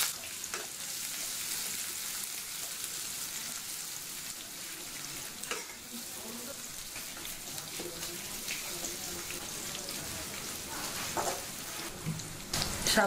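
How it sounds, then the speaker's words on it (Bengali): Chopped dried chilli, garlic, green chilli and onion fry in oil with a soft, constant crackling sizzle, broken by a few faint clicks and knocks from the pan. "শাক ভাজি রান্না করার জন্য তেল দিয়ে দিচ্ছি, শুকনো মরিচের কুচি দিলাম, রসুন কুচি, কাঁচামরিচ কুচি, পেঁয়াজ কুচি"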